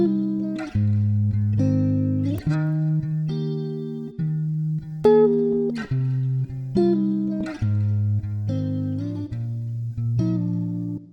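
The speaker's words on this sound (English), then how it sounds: "There's also another guitar which is more for further on in the breakdown with a nice melody." A clean guitar plays a melodic line of plucked, ringing notes for the breakdown of a future bass track, heard alone in a steady phrase of separate sustained tones.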